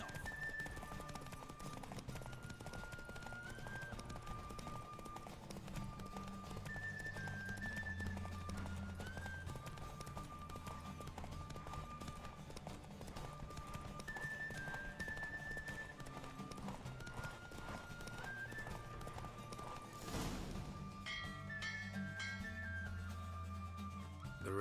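Roach, the horse in The Witcher 3, gallops in a race with steady clip-clopping hooves under a continuous game music score, with a brief burst of louder action near the end.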